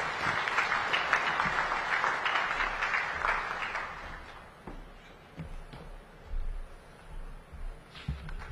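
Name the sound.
audience applause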